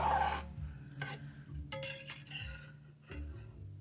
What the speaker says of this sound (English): we are gonna use a spoon. I'm gonna stir it around a little bit